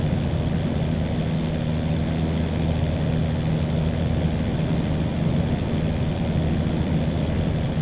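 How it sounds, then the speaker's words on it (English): An AirfoilLabs Cessna 172 Skyhawk SP propeller engine runs in the X-Plane flight simulator, a loud, constant droning rumble with rushing air heard close behind the aircraft, steady throughout with no talking. "If you go behind the aircraft, you can hear and feel the wind of the engines."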